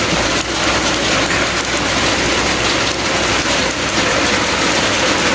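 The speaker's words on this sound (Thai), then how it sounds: "สำหรับตอนนี้ฝนตกนะครับ" Steady, heavy rain pours down outdoors at a rural home, a dense continuous hiss of drops on surfaces with no voices, loud and unbroken throughout.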